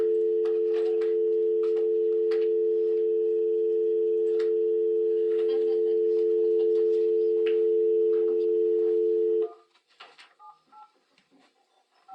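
A steady telephone dial tone hums continuously for about nine seconds while a call is placed, with faint clicks of keypresses over it, then cuts off to quieter scattered sounds.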